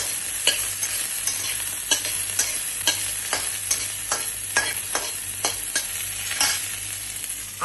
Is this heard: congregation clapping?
no